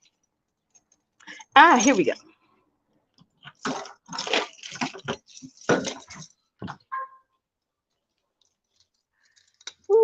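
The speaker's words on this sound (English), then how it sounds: "As I walk into my apartment, I'm jangling my keys." A large ring of many keys jangles in bursts while someone searches for the right one to unlock an apartment door, with short metallic clicks and rattles close by and a brief spoken remark near the end.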